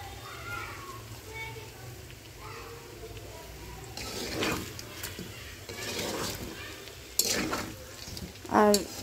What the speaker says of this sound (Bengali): তো পেঁয়াজটা আর একটু ভাজবো